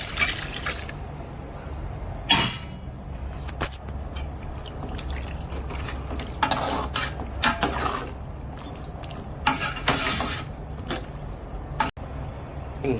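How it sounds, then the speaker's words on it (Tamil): Tamarind water trickles and splashes into a cooking pot for several seconds, with intermittent drips and soft sloshing over a low background hum. "புளி தண்ணி சேர்க்குறோம்."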